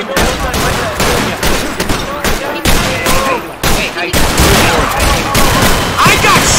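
Heavy gunfire in the video game Atlas Uprising, loud continuous volleys and bursts with brief gaps, some booming impacts mixed in.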